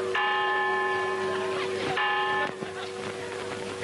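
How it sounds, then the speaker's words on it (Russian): A church bell rings with two loud resonant strikes about two seconds apart, each leaving a long ringing tone that slowly fades. "Этот колокол звонит по вас, полковник Уэрта."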